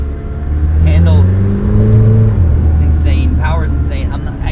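A full-carbon McLaren Senna engine revs while driving, its loud low drone rising and falling in pitch through several throttle swells, with a person speaking over the cabin noise.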